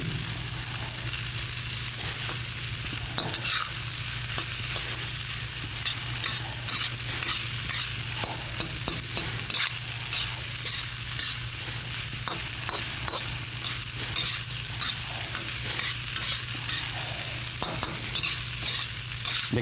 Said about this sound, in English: Mix the vegetables in with it. You want to heat up the rice and let that butter fat and bacon fat coat the rice too